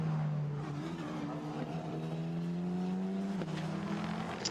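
Formula Renault Eurocup single-seater at Magny-Cours qualifying, its engine droning loud and steady through the chicane with the pitch climbing gradually, then dipping sharply near the end as the car passes the timing line.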